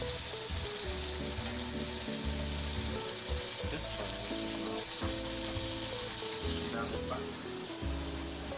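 Guanciale frying in a pan gives a steady crackling sizzle, close and continuous, with music playing underneath.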